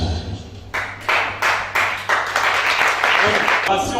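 A church congregation at a weekday service in Libreville applauding, repeated rounds of dense clapping from many hands that keep swelling and restarting, with voices mixed in.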